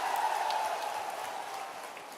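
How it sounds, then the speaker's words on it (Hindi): A crowd at an outdoor political rally in Pichhore claps steadily, a dense faint patter of applause that slowly fades over a couple of seconds. "पिछोर की ताली बजा दो एक बार"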